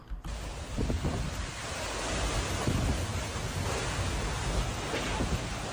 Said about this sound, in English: a super intense tornado went past this guy's house in Illinois